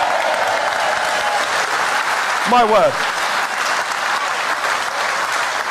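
A crowd claps steadily at a Brexit rally in Doncaster, sustained applause filling the space while someone speaks over it and a brief whistle cuts through.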